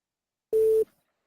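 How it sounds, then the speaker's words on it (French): A telephone answering machine activates with a single short, steady electronic beep, clear and alone against silence. "je laissais juste le répondeur s'activer"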